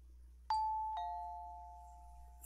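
A doorbell gives two quick chimes, a ding and then a dong. Each tone is clear and close, rings on, and slowly fades over a faint steady hum.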